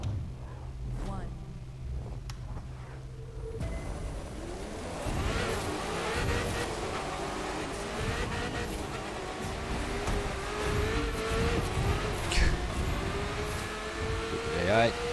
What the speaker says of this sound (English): In a Ferrari F40.